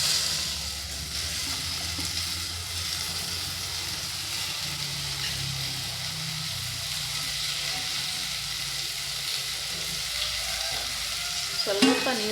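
Chopped tomatoes frying in a pan over a low flame for garlic rasam, a steady close sizzle with soft stirring throughout and a brief clatter at the very end.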